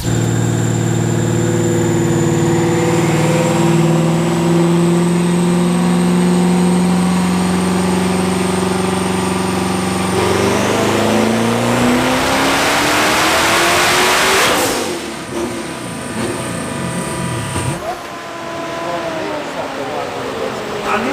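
Turbocharged Dodge Hellcat V8 runs on a dyno, its loud engine roar rising steadily through a long pull with turbo whistle, then cutting back before revving again near the end.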